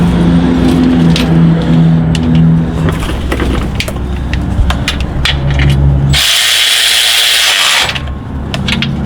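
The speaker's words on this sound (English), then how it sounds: "pull the wrench back off, and tighten up the bolt on the front side here" Close, loud metallic ratcheting and clicking from a wrench tightening a bolt on a 6T70 transmission during installation, with a brief burst of harsher noise near the end.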